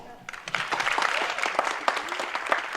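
Audience applause for the judges at a school talent show, a crowd of hands clapping in a lively, uneven patter that swells and carries on for a few seconds, with faint voices underneath.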